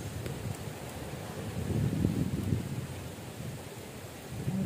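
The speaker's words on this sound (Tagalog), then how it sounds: "Ang lakas ng hangin." Strong wind buffets a phone microphone at a village festival, a low continuous rumble with gusts that swell and fade and no voices.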